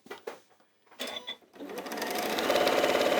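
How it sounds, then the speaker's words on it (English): A sewing machine stitches across the top of a fabric bag with the handles caught in the seam, starting after a few brief handling knocks and then running in a steady, close, continuous whir. "we're just going to sew across the top like that, with the handles trapped in the middle."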